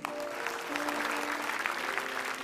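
A studio audience at an Indonesian talk show claps steadily for a couple of seconds, an even patter of many hands with a faint held tone underneath.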